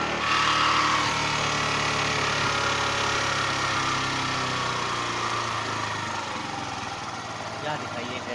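Yamaha SS125 motorcycle engine idling with the idle lowered to 1000 rpm: a steady, close, loud engine drone that holds constant throughout, with a faint drop in level toward the end.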